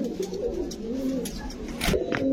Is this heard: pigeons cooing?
yes